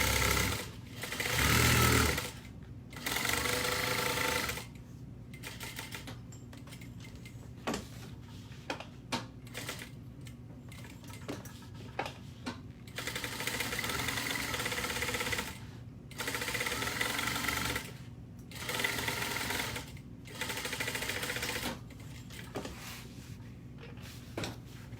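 A sewing machine stitches foam to a main vinyl panel along the side and bottom edges, running in repeated loud bursts of rapid mechanical whirring separated by short pauses; no one speaks.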